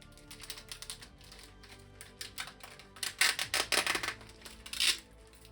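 Tape is peeled and crinkled off a plastic comic book bag up close. Soft, irregular ticking and crackling pick up into a denser flurry of sharp, tapping rustles toward the end.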